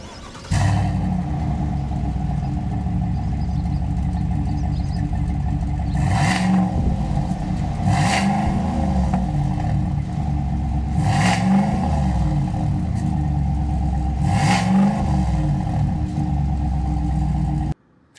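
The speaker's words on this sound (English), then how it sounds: "Have a quick listen to the exhaust note when we start this thing up." A 2025 GMC Sierra 1500 AT4 pickup truck starts and settles into a steady, loud, deep exhaust rumble, with periodic swells in engine note throughout.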